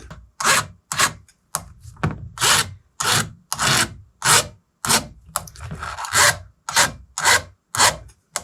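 Rhythmic rasping strokes of a file on chainsaw chain rakers, about fifteen quick back-and-forth passes in steady succession, close and fairly loud, with no talking.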